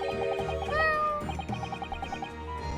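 A cat in The Great Ace Attorney Chronicles gives a few clear, close meows, one long rising mew in the middle, over steady game background music.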